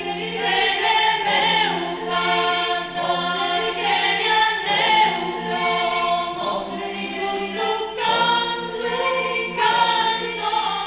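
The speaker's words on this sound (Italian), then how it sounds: "Il pezzo che state ascoltando si chiama Anninnia Anninnia" A Sardinian choir in Gavoi sings the lullaby Anninnia, with close, sustained harmonized voices in a steady, swaying flow that continues without any pause.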